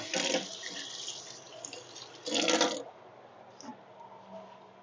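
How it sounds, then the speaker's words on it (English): Tap water runs over hands being rinsed at a kitchen sink, splashing in two loud bursts before easing to a quieter trickle and a few drips. "Rinse my hands off."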